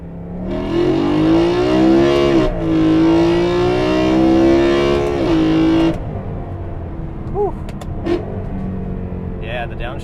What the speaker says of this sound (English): the downshift sounds good too